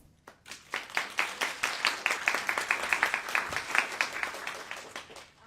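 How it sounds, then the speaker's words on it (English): Applause from a panel audience at a by-law discussion on defending dissent, a modest crowd clapping steadily for about five seconds before tapering off, fairly distant. "So, round of applause."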